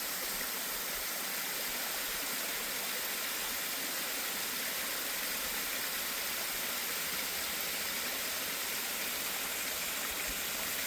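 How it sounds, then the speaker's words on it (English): Freedom Falls near Rockland Furnace pours over rocks in a constant, even rush of white water, heard from close by with no voices. "We're here to see the waterfall, and man, do we see it."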